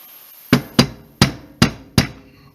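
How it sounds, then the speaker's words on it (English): Five sharp, dull taps from a rubber hammer on a Hi Point pistol during reassembly, spaced unevenly about half a second apart, close and clear against a quiet background. "I'm just going to start it just like that with a rubber hammer"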